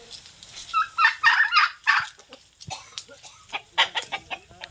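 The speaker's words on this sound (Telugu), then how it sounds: "టర్కీ కొన్ని చూపిస్తారండి" Turkeys on a village farm among coconut trees give a burst of rapid, throaty gobbling calls near the start, followed by scattered shorter clucks and calls, fairly close and clear with no talking.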